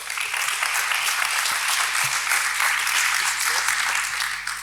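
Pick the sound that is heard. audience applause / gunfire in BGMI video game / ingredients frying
audience applause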